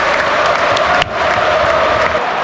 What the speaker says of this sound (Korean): 일단 이 야유.